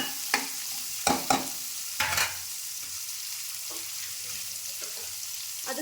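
Whole spices frying in hot oil for a village-style egg sambar, a steady soft sizzle with several sharp stirring scrapes and clinks near the start, then quieter stirring knocks, with no voices.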